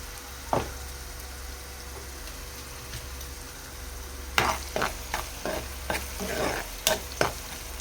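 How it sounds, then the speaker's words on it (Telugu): Onions fry with salt in a pan, giving a low steady sizzle. A burst of spoon scrapes and clatter from stirring comes partway through, nearby and moderately loud, with no speech. "ఇలా ఆనియన్స్ ఫ్రై అయ్యే టైంలో"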